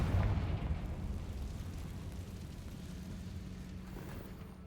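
Confringo fire spell blast in Hogwarts Legacy, a single loud, close booming explosion that rumbles and slowly fades over several seconds.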